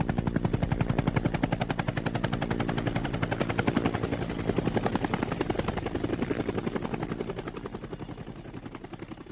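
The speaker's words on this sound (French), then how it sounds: "Un hélicoptère a terminé mon voyage." A helicopter roars close by, its rotor thumping in a steady rapid rhythm throughout, loud and continuous with a faint whine above.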